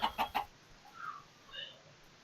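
Chickens in the video game Minecraft cluck three times in quick succession at the start, followed by a few fainter, softer clucks.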